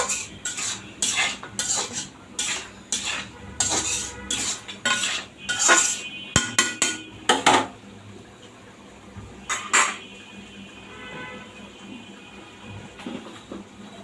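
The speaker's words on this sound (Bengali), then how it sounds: "এই যে কড়াই রান্না বান্না টেক টেক হচ্ছে" A metal kadai rattles and clinks as food is cooked and stirred in it, with rapid spoon strikes in quick bursts over the first half, then scattered knocks that fade toward quiet.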